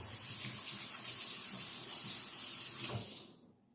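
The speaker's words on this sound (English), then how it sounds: "I'm gonna wash my hands." A kitchen tap runs steadily during handwashing, a close, full rushing hiss for about three seconds before the flow is shut off and fades to quiet.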